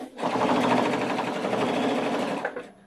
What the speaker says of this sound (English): the machine sews in reverse forever